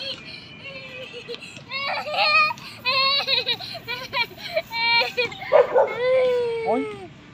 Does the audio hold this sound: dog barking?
yes